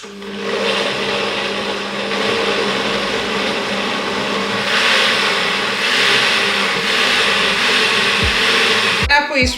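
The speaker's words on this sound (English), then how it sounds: "Let's blend our fruits, pineapple and then apple." A kitchen blender whirs steadily through pineapple and apple with a little water, making a loud, continuous motor drone that holds for several seconds before a few clunks at the end.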